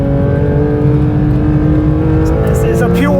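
Porsche GT3 RS race car driven hard at speed on a track, a steady loud engine drone with tonal harmonics and rising whine near the end, heard from inside the cabin under continuous talk.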